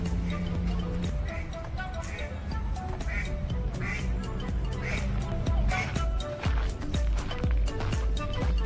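Repeated duck quacks from ducks swimming on clear Lake Annecy, France, ring out over a steady outdoor background, one call after another at an uneven pace, fairly close.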